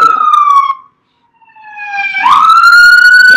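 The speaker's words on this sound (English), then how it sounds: "Is that a fire truck? Yes, it is loud where I am." A siren passing close outside, loud and wailing in rising and falling sweeps, dropping out briefly midway before climbing back strongly. Tagged as a police or emergency siren, believed to be a fire truck.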